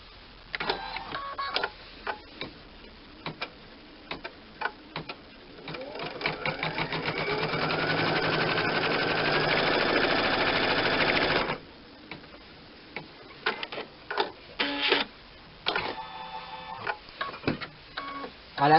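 A sewing machine embroidering a pillowcase hums in a steady, fast mechanical run for several seconds, with scattered ticks and clicks before and after as the machine starts and stops, close and fairly loud.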